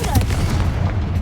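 A Confringo spell explosion in Hogwarts Legacy gives a brief, heavy, low boom that rumbles on for about a second.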